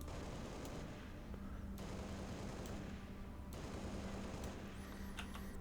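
Rapid automatic gunfire from the shooter game Halo Reach on PC, a dense continuous burst that runs steadily through the whole stretch with a flat, compressed, slightly tinny quality and no pauses.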